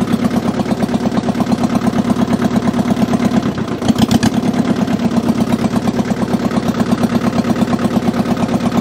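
Mitsubishi diesel tractor engine running with a loud, steady, rapid chugging pulse, close by, with a brief clunk partway through.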